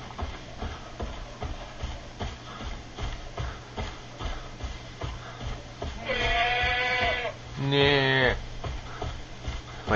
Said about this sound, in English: That's a horse sound